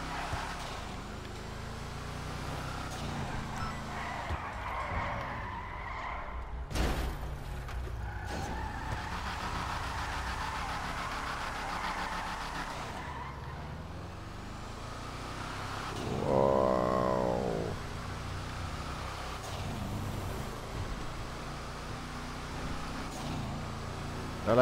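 GTA Online racing audio: an Imponte Nightshade sports car engine revving and droning, with tires skidding and screeching, including one louder squeal midway.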